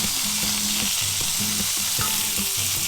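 Gnocchi with capers and cut garlic cloves sizzles steadily in a hot pan, with a constant close frying hiss. Occasional stirring clatters and utensil knocks sound over it.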